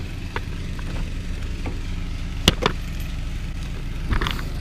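A Lamborghini car gives a steady low engine and road rumble throughout, with a few brief clicks and knocks standing out near the end.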